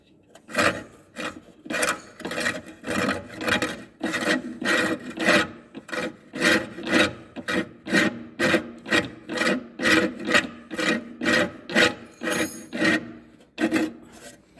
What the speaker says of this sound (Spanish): Roza ahora porque lo tenemos suelto de atrás